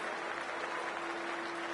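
A packed stadium crowd at a Cricket 24 match applauds and cheers in a dense, unbroken wash of clapping, loud and sustained with no gaps.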